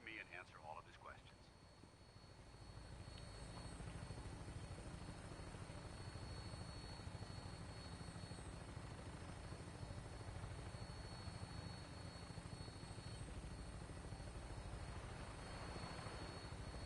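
A Vertibird aircraft in Fallout 4 drones with a steady rotor and engine rumble throughout, holding a constant loud hum as it flies toward an airport.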